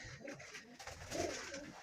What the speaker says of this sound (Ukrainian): Так, голубчики всі на місці.